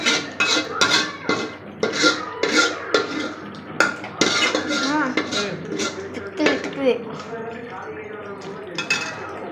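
A spoon scrapes and clinks against a cooking pot as thick gravy is stirred, a run of sharp metallic knocks and scrapes in an irregular rhythm, close and fairly loud, with a voice talking over it.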